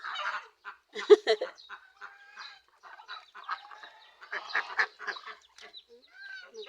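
A group of ducks fed pieces of papaya quack and honk close by in irregular bursts, with brief pauses between calls and no speech.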